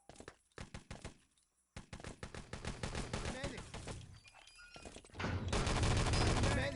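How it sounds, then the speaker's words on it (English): Rapid bursts of gunfire in a 3v3 competitive shooter match, sharp repeated shots of varying density building to a dense, loud barrage near the end, with faint voice under it. "Nice shooting there by Mouse."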